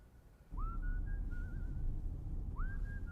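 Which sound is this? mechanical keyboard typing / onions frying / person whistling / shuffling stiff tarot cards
person whistling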